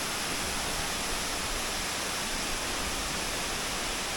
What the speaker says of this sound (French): Et la fameuse cascade.